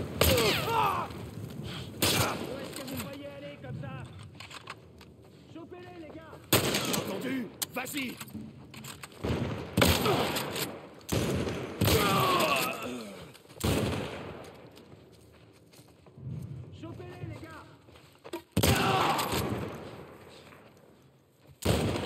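Gunfire in the video game The Last of Us Part 1 breaks out in repeated loud, sharp bursts of shots amid fast action, while someone speaks French over the fighting.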